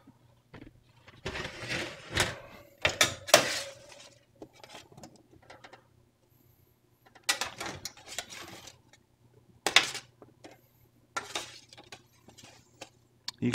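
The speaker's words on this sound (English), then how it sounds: "We're just going to give this a stir." Roasted butternut squash is stirred in a pan with a utensil, giving irregular clinks and scraping clatters in several bursts separated by quiet pauses, close up and without speech.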